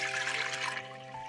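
Water pouring steadily into a pressure cooker set on a gas stove, a bright continuous gush that softens toward the end, with no voices.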